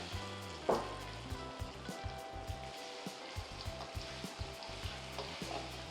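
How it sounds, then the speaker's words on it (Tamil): Masala-coated eggs fry in a little hot oil in a kadai, giving a steady close sizzle with soft crackles and faint stirring scrapes throughout, and no talking. "நம்ம இந்த மசாலா போட்ட எக்கை அதுக்குள்ளே போட்டுடலாம்."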